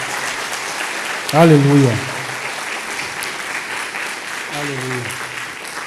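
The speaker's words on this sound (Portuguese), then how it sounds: "Vamos abençoar Jesus com um aplauso, porque Ele é digno." A church congregation applauds together in sustained, even applause, while a voice calls out twice over the clapping.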